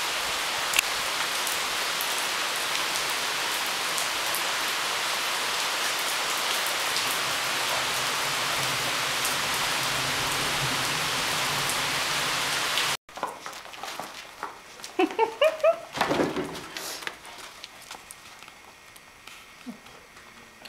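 Heavy rain pours down in a dense, steady hiss for about thirteen seconds, then cuts to a quieter outdoor scene with scattered drips and light patter.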